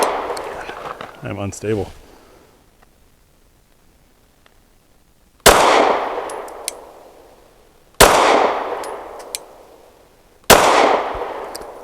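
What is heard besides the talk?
gunshots from a Derya Arms Rock Island DY9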